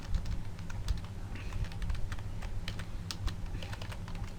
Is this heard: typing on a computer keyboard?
yes